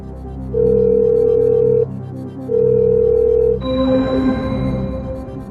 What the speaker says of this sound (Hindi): वीडियो कॉल लगाया जाए कंप्यूटर महाशय